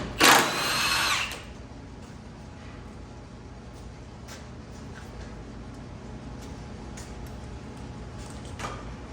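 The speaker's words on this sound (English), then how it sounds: "we're going to go ahead and remove our lower engine mount nuts, 21 millimeter" A power tool removes the 21 mm lower engine mount nuts on a 2007 Cadillac STS, giving one loud burst of about a second, then quiet garage background with faint clicks.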